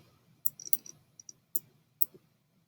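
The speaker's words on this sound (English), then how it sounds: "I'm clicking and dragging out to select all of them." Computer mouse clicks while selecting and dragging items: a handful of sharp, quiet clicks, some in quick pairs and a few spaced apart, standing alone over a faint room hum.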